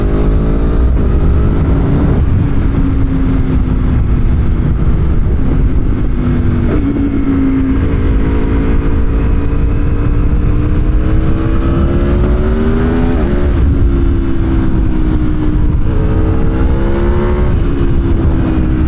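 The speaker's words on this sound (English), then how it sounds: "We'll click it up a few gears and let you hear those downshifts." An Aprilia Tuono 1100 Factory motorcycle engine pulling through the gears and blipping down, a loud continuous roar with rising and falling pitch sweeps and several sharp shift breaks, heard close while riding.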